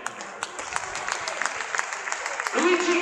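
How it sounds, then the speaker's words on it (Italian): Crowd applause for an actress at an award presentation in Reggio Calabria, Italy, a moderate wash of clapping running under a speaking voice with a brief louder burst near the end. "Applauso all'attrice!"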